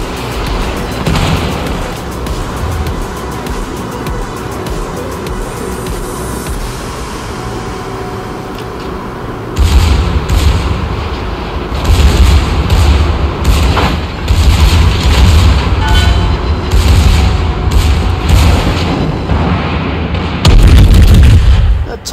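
Secondary guns on the Tier 9 German battlecruiser Prinz Rupprecht firing in a naval video game, a dense run of loud booms and repeated gunfire blasts, with heavier bursts in the second half over a constant rumbling background.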